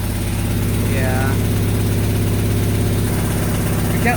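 A Mazda car engine idling on its first start after a build, a loud steady low rumble with even rapid pulsing throughout, while people talk nearby over it.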